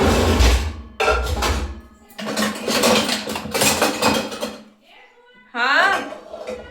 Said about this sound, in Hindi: अब मैं फटाफट से ये बर्तन को सेट कर लेती हूँ पहले